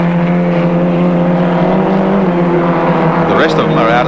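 Gemini Series race cars at Surfers Paradise International Raceway in 1987, a steady loud engine drone along the straight with a commentator talking over it.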